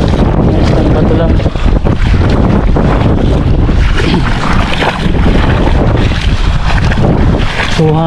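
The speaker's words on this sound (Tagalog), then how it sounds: "So hangin lang talaga yung dito" Strong wind roars and buffets the microphone continuously at a mountain-side fishing spot, with a low rumbling boat engine and water noise underneath, loud and unbroken throughout.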